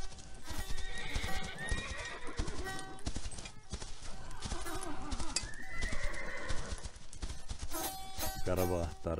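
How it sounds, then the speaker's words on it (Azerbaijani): Karabakh horses returning to the Kalbajar highland pastures: loud, steady hoof clip-clops run throughout, joined by repeated neighs and whinnies and a final high, wavering whinny near the end. "İndi bu at öz doğma vətəninə qayıdır."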